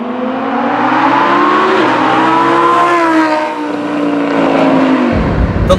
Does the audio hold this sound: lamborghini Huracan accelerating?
yes